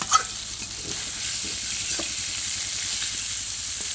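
Chili spice paste sizzles steadily in a pan on the stove while being stirred, with a brief clink of the utensil at the start; close, continuous frying hiss with no voices.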